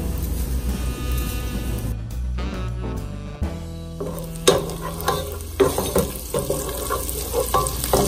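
Garlic cloves roasting in melted butter in a pot while being stirred, heard as a steady sizzle and frying crackle with scraping stir sounds and a few clinks, mixed with a background hum and no voices.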